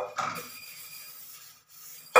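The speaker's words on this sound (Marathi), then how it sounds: "चला मग भांडी घासून घेणार" Dishes and pots being washed by hand at a kitchen counter, with a few close metallic clinks and rubbing scrapes, then quieter scrubbing and another clatter at the end.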